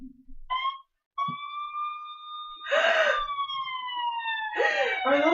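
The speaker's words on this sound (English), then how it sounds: "Are those sirens I hear?" A police siren wails with long rising and falling tones, loud and close, with short breathy vocal sounds between the sweeps.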